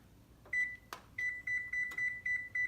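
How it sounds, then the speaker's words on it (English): An oven timer beeps during cookie baking in a kitchen, a steady series of short, evenly spaced electronic tones repeating about twice per second, fairly clear over a low background hiss, with a sharp knock or clatter near the start. "now that the oven has beeped, we're going to take out the cookies"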